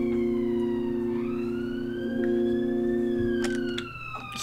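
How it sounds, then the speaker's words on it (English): An ambulance siren wails past with a rising, sweeping tone that holds loud and steady over a low background hum, then cuts off near the end. "Oh, that's an ambulance."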